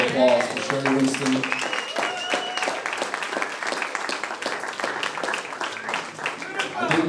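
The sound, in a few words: audience applause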